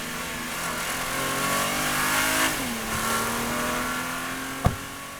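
A Ford GT supercar accelerating hard in first gear, its mid-pitched engine note climbing loudly, dipping at a gear change and rising again, with a sharp click near the end and no talking.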